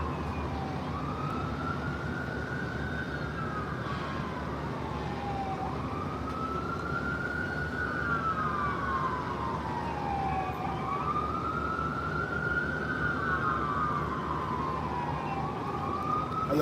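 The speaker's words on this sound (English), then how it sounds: "I hear the sirens in the background." Emergency vehicle sirens wailing in the background, a rising and falling tone sweeping in slow repeated cycles, distant and steady beneath a low hum.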